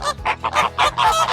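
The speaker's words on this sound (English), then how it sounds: "Flamingos make a honking noise, almost like a goose." A flamingo gives a rapid series of about five loud, nasal, goose-like honks, close and unaccompanied.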